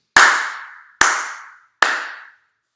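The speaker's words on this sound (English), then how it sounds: "I'm going to clap my hands." Three single hand claps in a quiet room, each sharp and close with a short ringing decay, spaced roughly a second apart.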